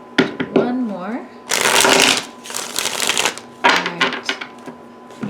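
Tarot cards shuffled and dealt during a Sagittarius love reading, with bursts of riffling and flicking between stretches of a voice speaking close by.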